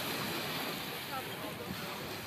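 Waves wash onto a beach on an outdoor film set, a steady broadband roar of surf mixed with wind buffeting the microphone, continuous and fairly close throughout.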